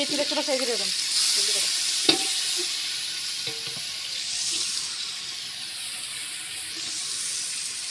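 Eggplant frying in a pan gives a continuous hiss and sizzle with occasional stirring clinks and a sharp tap, close and steady; a voice is briefly heard at the start.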